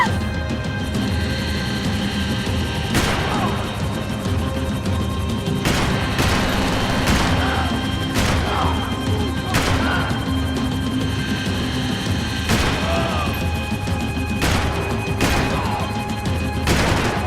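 Gunfire from the video game Max Payne 3 rattles through a chaotic action sequence, a continuous dense fusillade with sharp repeated cracks and booms, loud and sustained throughout without clear speech.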